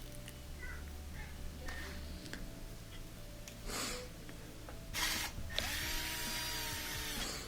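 A drill spins the greased motor shaft of an LG dishwasher, giving a low mechanical whirr with ratcheting clicks and a few sharp bursts of grinding as the motor turns.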